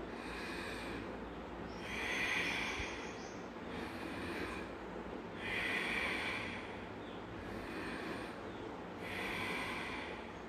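Deep, slow breaths during Vasishtha pranayama, with three long, forceful airy surges rising and falling about every three to four seconds over a constant low hum; close and steady, with no talking.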